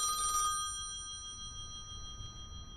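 Old-style telephone bell ringing in a radio mystery drama, one short bright metallic ring at the start, then a quiet hum as the ring fades.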